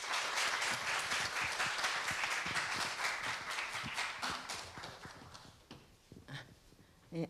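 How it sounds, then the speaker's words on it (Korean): Enthusiastic audience applause in a university lecture hall welcoming a cultural critic to the stage, dense clapping that thins out into scattered individual claps before fading. "여러분 힘찬 박수로 맞이해 주십시오."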